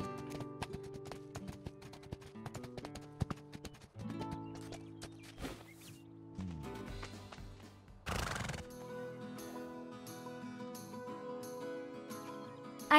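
Horse neighs and galloping hooves in a Spirit horse video game, several whinnies and clip-clop steps layered over tonal game music.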